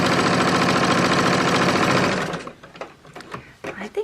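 A sewing machine stitches a quilt-as-you-go square coaster in a steady, loud, fast run for about two seconds, then stops, leaving softer fabric handling and small clicks.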